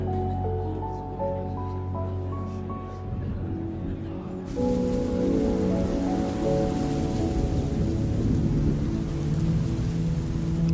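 Rain falls steadily with a dense hiss and rumble after music fades out midway, the downpour continuing loud and close until the end.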